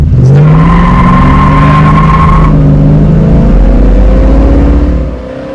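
A 1966 Ford Fairlane GTA's 390 FE V8 engine revs loudly and close, the pitch climbing then dropping as the throttle eases, settling into a deep rumbling idle.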